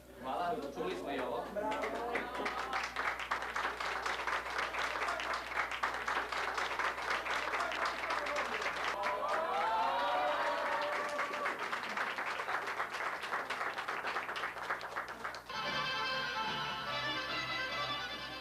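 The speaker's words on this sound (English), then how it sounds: "Just saying the name brings a round of applause from those who have gathered to witness the ceremony." Guests gathered at an old country wedding ceremony applaud with long, steady clapping, and voices carry over it before the applause gives way to other sound near the end.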